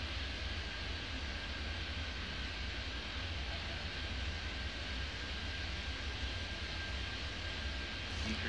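A jet airliner takes off in Airport Madness 3D, its engines making a steady, unbroken roar with a thin high whine running through it the whole time and no voices.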